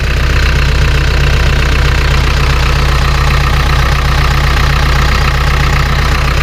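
Isuzu 4BG1 diesel engine on a generator set running steadily, a loud close continuous rumbling idle with a knocking diesel clatter throughout and no pauses.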